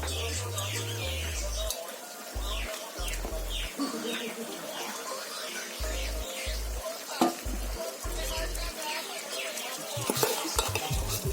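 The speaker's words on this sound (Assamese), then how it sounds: "চাউলকেইটা অকণমান লৰাই দিছোঁ যাতে সকলোবোৰ মিক্স হৈ যায়।" Soaked rice is stirred in a pot while veg pulao cooks, with a soft continuous scraping and shuffling and light sizzling underneath, close and steady, with no talk.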